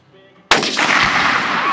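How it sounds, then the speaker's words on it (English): A single AR rifle shot fired at a propane tank outdoors: a sudden loud, close blast followed by a long, dense rumbling roar that keeps going without letting up, after a quiet, faintly noisy lead-in. "we're gonna be shooting some propane today"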